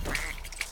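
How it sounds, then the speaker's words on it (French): A cartoonish duck quacks in the Rayman video game after the character turns into a duck, giving short nasal calls, close and clear, that repeat twice within under a second. "attention, transformation en canard. Coin coin."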